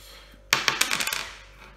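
A broken firing pin drops out of a Spanish side-by-side sidelock shotgun and lands with a sharp metallic clink, then rattles and bounces in a quick run of small taps before settling, close and clear with no talk.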